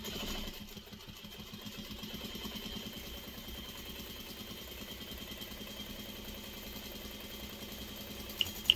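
A sewing machine stitches chicken-shaped pot holders with a quarter-inch seam at a 2.5 stitch length, giving a steady, rhythmic mechanical whir that runs unbroken and alone at moderate volume.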